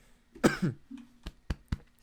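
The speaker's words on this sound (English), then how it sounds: "Cough, cough." Several short coughs, a couple of rough ones followed by three quick, sharp bursts, close and fairly quiet.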